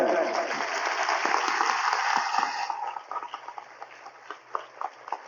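An audience claps at a church assembly, a dense burst of applause that thins after a few seconds into scattered separate claps.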